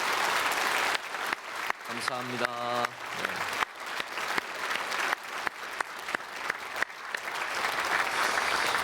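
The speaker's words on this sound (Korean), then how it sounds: "우리 크게 박수로 환영하겠습니다." A church congregation at a Sunday service in a large Korean church breaks into loud, sustained applause to welcome newcomers, with a brief musical chime partway through and a few spoken words over the clapping.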